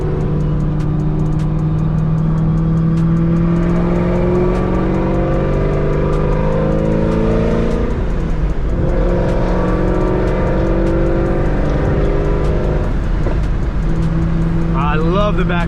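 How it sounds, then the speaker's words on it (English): A Chevrolet Camaro ZL1 exhaust roars loudly and steadily close by, its engine drone rising and falling with revs, with scattered sharp crackles and pops from backfires throughout. "I love the backfires."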